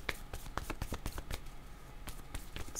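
Tarot cards shuffled by hand, a close run of quick papery riffles and flicks in irregular bursts, fairly faint, with no talk over it.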